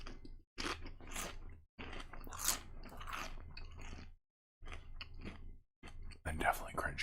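Crunchy spiced sweet snack being bitten and chewed close up, with bursts of crisp crunching separated by short pauses, soft and intimate in a quiet room.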